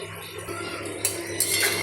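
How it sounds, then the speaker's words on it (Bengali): A metal lid clanks onto a pot of simmering potato and pointed gourd curry, two or three sharp close clatters over a low kitchen hum. "এবার এটা আমি ঢাকা দিয়ে দেবো"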